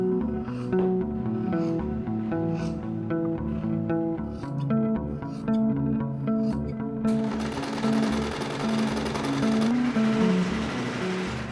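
A sewing machine stitches small fabric strips onto a skirt, its rhythmic mechanical whirr partly buried under background music, with a brighter, busier stretch toward the end.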